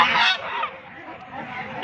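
Ducks at a busy village market honk and quack loudly, a dense overlapping chorus of calls at close range that is strongest at first and then continues at a steadier level.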